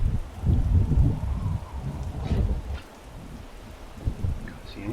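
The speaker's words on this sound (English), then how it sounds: "Still raining." Heavy rain falling outdoors in a hillside whiteout on a coast-to-coast walk, a steady dense hiss with low rumbling gusts, loud and close throughout with no talking.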